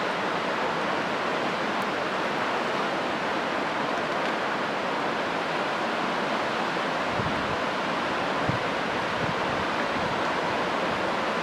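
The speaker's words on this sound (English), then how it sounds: "Man, is it windy today or what?" Strong wind blows across an open hilltop above a large valley. It roars without a break, loud and close, as broadband rushing noise buffets the microphone throughout.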